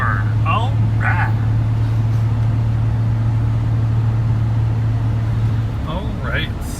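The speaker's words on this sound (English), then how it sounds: "this is pretty much the S10 driving" A Chevrolet S10 pickup truck drives along with a steady low engine drone throughout, joined by brief tonal chirps, while a person talks in short bursts inside the cab.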